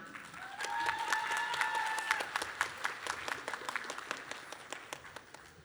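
Sustained graduation audience applause for the Long Academy class of 2025, a dense crowd of clapping with a whistle-like tone rising early on, gradually thinning and fading toward the end.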